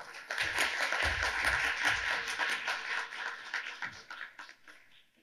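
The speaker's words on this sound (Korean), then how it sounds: "큰 박수로 맞이해 주시기 바랍니다" Audience applause at a public hearing on copyright law reform, welcoming a lawmaker to give congratulatory remarks: a steady wash of clapping from a room of people that swells quickly, holds, then thins and fades out.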